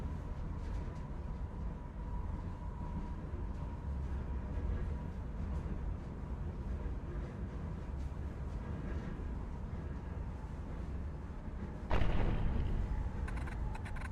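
A train rolls along in the Sorry We're Closed video game, a steady low rumble and clatter that runs throughout, with a sharp, loud bang near the end.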